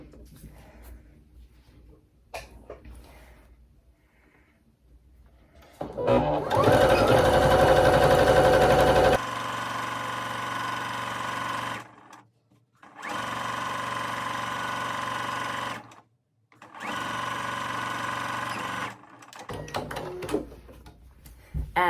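A sewing machine stitching binding onto the corner of a quilt, running in loud steady bursts of several seconds with short pauses between them, close up, with quieter handling before the first run.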